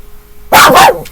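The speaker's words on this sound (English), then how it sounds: "And hopefully my dogs, I think I'll leave them in the house next time instead of out in the place that I'm recording." Dogs outdoors where someone records at home give a single loud, close bark burst after a half second of near silence, then a fainter trailing yelp.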